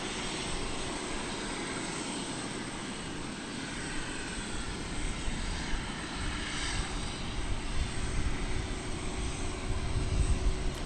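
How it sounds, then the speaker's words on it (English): A Delta Airbus A319 bound for Salt Lake City rumbles at DFW Airport in the early morning, a continuous engine roar that slowly grows louder over the span. "this is Delta Flight 1291. It's going to Salt Lake City on an Airbus A319"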